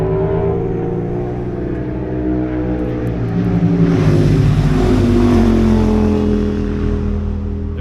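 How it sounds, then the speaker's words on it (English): Motorbikes and customized cars race along a road in the Peak District, their loud engines swelling and fading as they pass one after another in a continuous roar. "As you can hear, there's a lot of bikes, customized cars, everything racing up and down."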